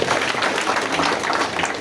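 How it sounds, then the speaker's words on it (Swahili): A church congregation claps together, a dense, steady burst of many hands up close that fills the whole moment. "Tunapiga makofi."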